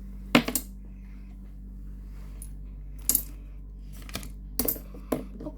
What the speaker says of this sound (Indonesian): Jadi yang ini isinya uang koin ya.